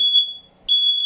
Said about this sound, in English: It's just my fire alarm going off.